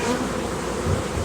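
Honeybees buzz in a dense, close swarm as a hive frame is shaken, a continuous whirring hum with no voices.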